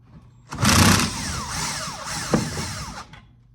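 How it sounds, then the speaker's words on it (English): An impact wrench gives one loud, close burst of about two and a half seconds while loosening a bolt on a 2021 Honda Accord, then stops. "All right, so I just got that off, loosened it with the impact."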